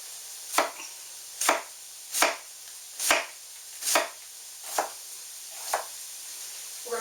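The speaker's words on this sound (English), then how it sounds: "Quarter it, core it, slice it thinly" A knife slices a quartered, cored cabbage thinly on a board: eight sharp, evenly spaced cuts at a steady, unhurried rhythm, close and clear with no talking.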